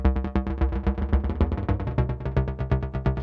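A Nord Drum 3P synth voice, detuned with an added octave interval, repeats in a rapid, even stream of fuller, thick buzzy hits, steady and upfront with no speech.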